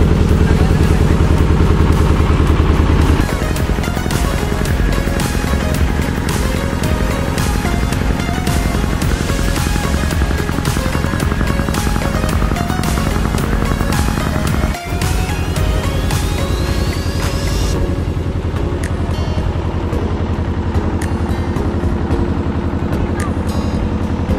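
A motorboat engine drones loudly and steadily throughout a boat ride toward Vasota, a constant close rumble with clattering hull noise and a brief dip partway through.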